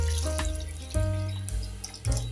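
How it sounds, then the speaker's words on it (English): Liquid poured into a cornmeal pudding mixture, a steady running-water stream with a few bright splashy surges, close and fairly loud. "we're gonna go in now and pour some more into it."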